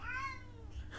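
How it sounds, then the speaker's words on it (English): A house cat gives a single short meow indoors, quiet and falling in pitch, with no talking over it. "Okay, that was one of my cats."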